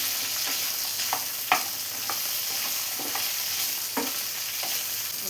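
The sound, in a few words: okra and shallots frying in a pan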